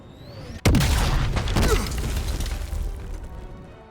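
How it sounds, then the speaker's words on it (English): A sudden loud explosion in the video game Black Ops Cold War, a sharp blast followed by a long rumbling, crackling tail of debris and mechanical clatter lasting several seconds. "Recovering from an explosion"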